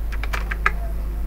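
Keystrokes on a computer keyboard while typing text into an MS Word document, about five quick taps clustered in the first second, then a steady low hum with no talking.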